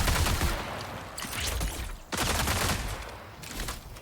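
Rapid, dense gunfire in the shooter game Marathon during a raid in the Dire Marsh, a continuous crackling barrage with brief dips, heard at moderate distance and fairly quiet overall.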